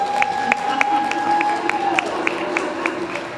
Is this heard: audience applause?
yes